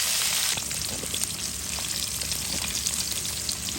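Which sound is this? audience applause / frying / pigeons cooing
frying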